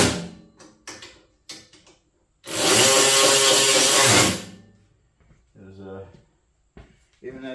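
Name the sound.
ratcheting wrench tightening bolts on a new generator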